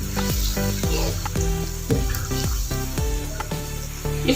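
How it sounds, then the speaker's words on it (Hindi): Finely chopped tomatoes sizzling loudly as they are mixed into a mutton karahi, with a dense close hiss and regular scraping spoon strokes, roughly two per second, and no talk. "साथ ही इसमें जाएंगे 2 मैंने टमाटर लिए हैं, इनको बारीक कट कर लिया है। सबको अच्छे से मिक्स करें।"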